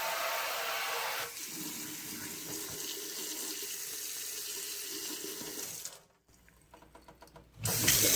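A motion-activated kitchen faucet sprays water hard into a sink, a loud steady hiss that drops to a quieter trickle near the end, then surges again briefly.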